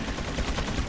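Machine gun turrets fire in the PC version of Resident Evil 4, a dense, rapid burst of automatic gunfire filling the whole second with loud, rattling repetition.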